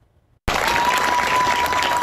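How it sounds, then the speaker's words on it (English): Police officers applaud at a Washington, D.C. hospital as a wounded Capitol police officer leaves, a brief silence followed by loud, dense, sustained clapping from a close group. "leaves to applause from his fellow officers getting out of his wheelchair and walking to the car"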